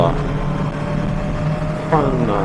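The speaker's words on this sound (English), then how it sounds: "It's actually got a fun little engine in it" Kawasaki Versys 650 motorcycle engine running steadily while riding, a continuous mid-pitched drone with wind noise, rising briefly in pitch near the end as the rider accelerates; a voice talks faintly over it.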